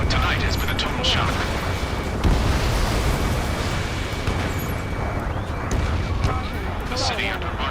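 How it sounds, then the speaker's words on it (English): Dense bursts of gunfire and heavy booms crackle over a constant roaring rumble of jets in the video game Ace Combat 7: Skies Unknown, with loud impacts scattered throughout and voices faintly underneath. "Gunfire and the roar of jets echoing through the streets."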